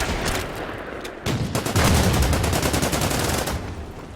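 A World War II strategy game battle plays loud gunfire: a sharp shot, then a tank hit followed by sustained rapid machine-gun bursts that rattle on for several seconds.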